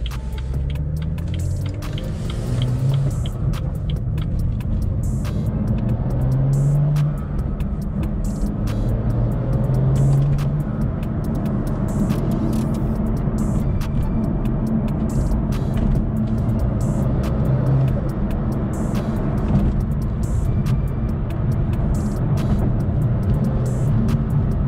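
A BMW F87 M2 on a stage 2 tune cruises easily, its engine a steady low rumble with road drone throughout and mild swells in pitch, no voices.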